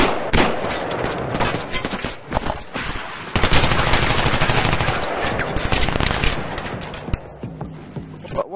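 Rapid automatic gunfire and weapon clatter from a Battlefield 3 match, loud and sustained across the clip with brief pauses, mixed with mechanical clicks and occasional player voices.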